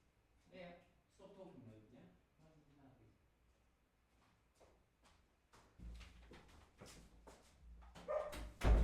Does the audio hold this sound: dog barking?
yes